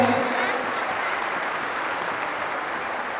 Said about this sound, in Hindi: एक बार जोरदार ताली बजाकर स्वागत करें